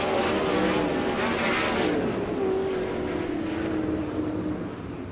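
A World of Outlaws sprint car roars through a hot lap at Angell Park Speedway, its loud engine howl sustained, then slowly fading as it moves away.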